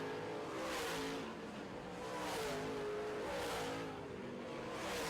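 Modified race cars roaring around the track on the final lap, engines swelling and fading in steady waves as the pack passes, a continuous distant drone of revving motors with faint tire noise.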